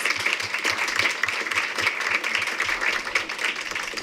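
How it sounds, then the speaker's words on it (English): A room full of people at a school board meeting claps steadily, the individual hand claps audible in a lively, sustained round of applause with no one speaking over it. "let's give them another round of applause"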